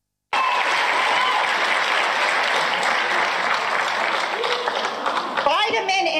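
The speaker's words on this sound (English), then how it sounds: "The crowd is cheering that what people are dying from isn't COVID." Large crowd at an anti-mask rally cheering and applauding loudly and continuously, a dense sustained roar that holds steady throughout, with a voice briefly cutting through near the end.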